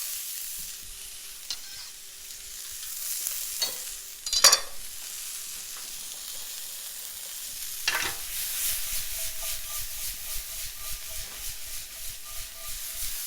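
Onions sizzle steadily in a hot frying pan as they are stirred, with scraping and a few sharp clatters of the utensil against the pan, close up and with no talking.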